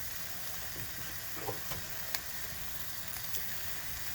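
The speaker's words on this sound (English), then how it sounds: "we're going to go ahead and let this ground beef cook" Ground beef from prime rib steak burgers, about a pound and a third, sizzles and fries in a pan with a steady, close hiss, punctuated by a few soft stirring scrapes and no talking.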